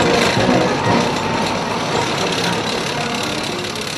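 A BMD-4 airborne fighting vehicle's engine rumbling loudly and steadily as it pulls away, a dense, constant mechanical roar heard up close with no talking.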